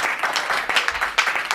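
Applause from the audience of a Hindi comic poetry recital greets the humorous poet Dinesh Rastogi, a dense, steady burst of many hands clapping at close range for a moment, with no talk over it.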